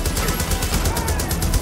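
Gunfire in the video game Far Cry New Dawn, a steady rapid stream of loud automatic shots filling the whole moment, with no voices over it.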